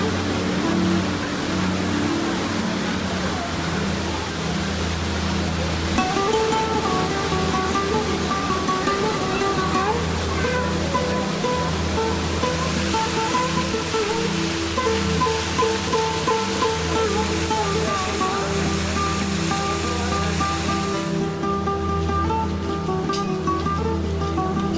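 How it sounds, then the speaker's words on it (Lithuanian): A roaring waterfall at Vanduzo town in Iraq, a loud continuous broadband rush of falling water filling the whole stretch, with low rumbling and faint background activity beneath. "nes labai vanduo šniokščia."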